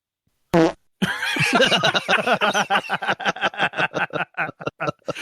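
A comedic fart sound effect: a short blast followed by a long sputtering run of rapid, rhythmic flatulent bursts that slow and space out toward the end, loud and close with nothing else heard.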